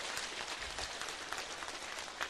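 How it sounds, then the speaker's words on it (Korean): An audience at a lecture by a Buddhist monk claps in thanks, giving a soft, steady patter of many hands that sounds faint and distant. "다시 한번 스님께 감사의 박수 부탁드립니다"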